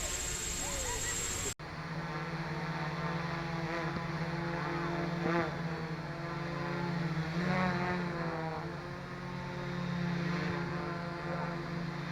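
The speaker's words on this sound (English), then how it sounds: "in the loiter mode you can take it the height you like, then keep the center throttle here" A Pixhawk-controlled drone holds position in loiter mode with a steady, close propeller buzz and whine that swells and dips slightly throughout, with a brief cut near the start.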